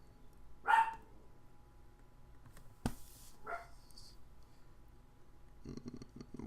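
Dogs bark inside a house, two short separate bursts at moderate distance over a quiet room, with a brief knock and some faint clatter later on.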